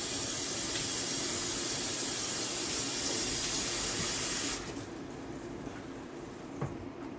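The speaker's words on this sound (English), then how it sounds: "So you're just gonna go ahead and get some water there." Tap water runs steadily into a kitchen sink while salted fish is rinsed, a broad hiss that cuts off abruptly midway, leaving quiet room tone with faint clatter.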